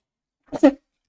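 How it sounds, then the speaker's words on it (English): A single close, sharp sneeze from a person: a quick two-part burst lasting under half a second, alone in otherwise silent surroundings. "I need to sneeze."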